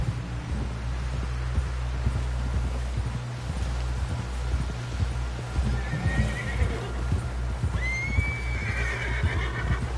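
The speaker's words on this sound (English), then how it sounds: "Someone help John down off this horse." Horse whinnies and neighs rise over steady clip-clopping hooves in a PS4 video game, with a low constant hum beneath; two clear whinnies stand out near the end.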